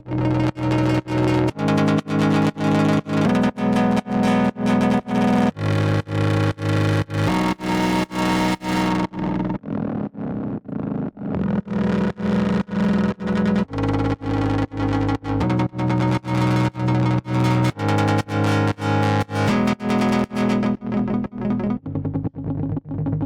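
A looping melodic techno synth pluck from the DUNE 2 synth with a wobbling, modulated tone, repeating in steady rhythmic phrases with echoey, slightly distorted texture and a brief dip midway.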